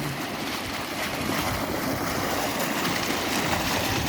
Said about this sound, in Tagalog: grabing pagbubulusok ng tubig